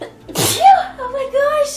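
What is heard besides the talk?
person sneezing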